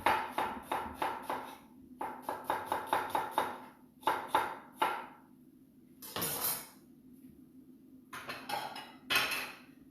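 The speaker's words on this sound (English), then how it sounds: "Just going to slice some onion." A knife slices through onion on a cutting board in quick rhythmic runs of sharp close chops, grouped in bursts with brief pauses between them.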